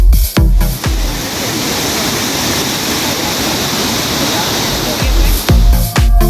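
El Chiflón waterfalls in Chiapas, Mexico, a chain of cascades up to 120 metres high, roar as loud, steady, close-up white water, briefly broken by thumps near the start and end.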